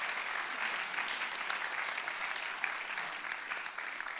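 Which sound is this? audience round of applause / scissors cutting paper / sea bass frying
audience round of applause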